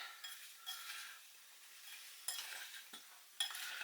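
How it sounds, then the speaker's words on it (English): Sliced apples being stirred with spice, sugar and sultanas in a bowl, soft wet scraping and shuffling strokes in short bursts, quiet and close. "we want to mix that in well to coat the apples with all that lovely spice and sugar and sultanas"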